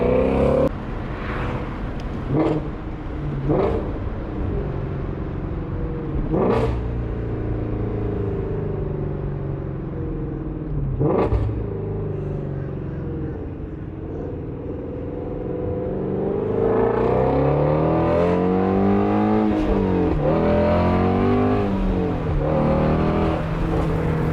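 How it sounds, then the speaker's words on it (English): A loud GT350 sports car with a new, louder exhaust revs and drops through gears, with sharp bursts on each downshift and crackling burbles from the exhaust, continuous throughout. "Golly, those downshifts sound insane now. So much louder. And then you got burbles on top."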